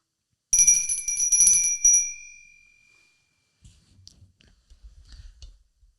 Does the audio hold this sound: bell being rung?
yes